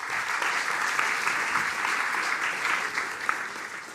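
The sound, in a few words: audience applause for guest on stage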